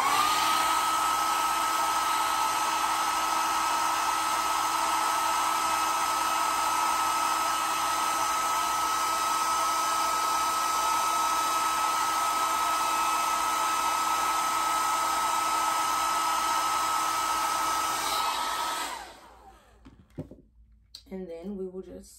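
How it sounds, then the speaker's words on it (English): A hair blow dryer running on a frontal hair install, a loud steady whine and rushing air held close for about eighteen seconds before it switches off into quieter sounds. "And then I'm gonna go back in again with the blow dryer."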